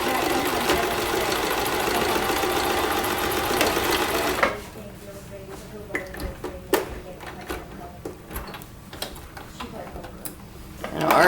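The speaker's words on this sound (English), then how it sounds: "So I'm just sewing those together." A sewing machine stitches purse fabric pieces together in a steady close whirring run that stops partway, followed by scattered handling clicks and a brief voice.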